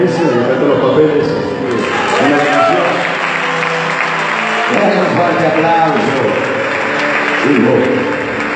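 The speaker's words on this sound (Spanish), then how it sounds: "Fuerte aplauso." Loud church congregation applause and cheering filling the room, continuous throughout, with voices mixed into the noise.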